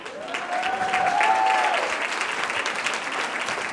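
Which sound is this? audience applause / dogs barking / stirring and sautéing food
audience applause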